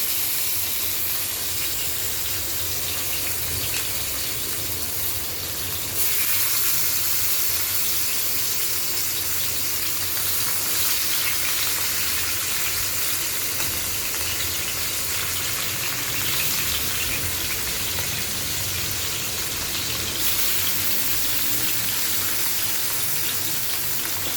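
Bata fish frying one by one in oil in a pan on a gas stove, giving a constant, loud, hissing sizzle that runs unbroken for over twenty seconds with no talk.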